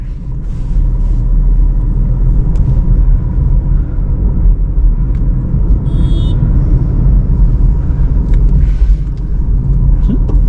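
A car engine rumbles low and steady from inside the cabin during a beginner driving lesson, a constant close drone under faint background noise, with no distinct gear shifts standing out.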